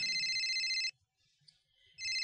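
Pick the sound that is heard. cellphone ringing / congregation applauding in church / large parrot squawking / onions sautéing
cellphone ringing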